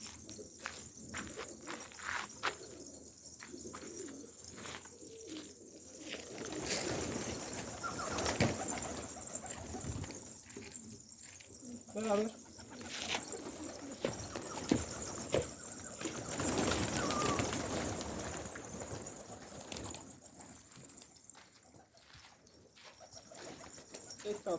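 Pigeons coo softly in a coop amid wing flaps and shuffling, with someone talking intermittently over the faint, repeated cooing.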